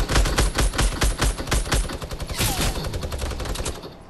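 Heavy video-game gunfire echoes from distant hills, loud and sustained, with rapid machine-gun bursts layered over single shots in a dense, continuous fusillade.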